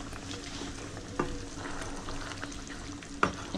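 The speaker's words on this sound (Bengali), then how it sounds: "একটু পানি দিয়ে জাল দিতে হবে," Chicken and giant taro curry simmering with a little water in a pan gives a soft, steady bubbling sizzle nearby, punctuated by two sharp utensil knocks, with no voices.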